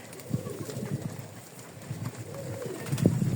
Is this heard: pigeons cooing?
yes